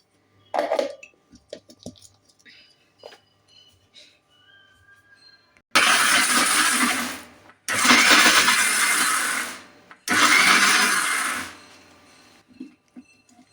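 A mixer grinder whirs loudly in three short pulses with brief pauses between, grinding onion chutney without water, after some quiet kitchen clinks and faint talk.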